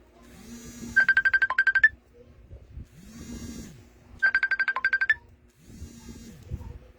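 An incoming call rings on a mobile phone: two repeated bursts of a rapid electronic warbling tone over a low hum and faint background clatter.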